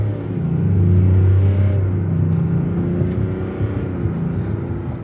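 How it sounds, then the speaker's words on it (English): A GMC Sierra 1500 Denali Ultimate pickup with the small Duramax diesel floors it at full throttle, its engine rumbling loud and steady with a deep drone that holds for several seconds. "Let's feel some of that diesel torque."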